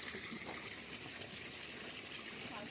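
Stream water pours down from a waterfall in a continuous, steady rush that fills the scene, with no talk.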